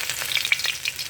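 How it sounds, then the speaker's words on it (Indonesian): Shallots and garlic sizzle while sautéing in a pan for Tuaran noodles, a steady hot frying hiss with a few stirring scrapes, close and loud, brief, with no talking. "tumis bawang merah"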